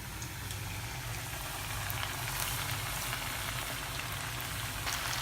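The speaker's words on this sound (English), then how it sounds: "Fry until your noodles get crispy and golden brown." Noodle-coated chicken cubes frying in hot oil until crispy give a steady, dense sizzle with a fine crackle, holding even throughout with no talking.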